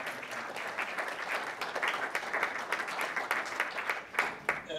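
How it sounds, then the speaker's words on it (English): An audience at a talk on Memphis music applauds steadily throughout, dense overlapping claps with a few louder hand strikes standing out near the end. "Y'all gotta clap for that."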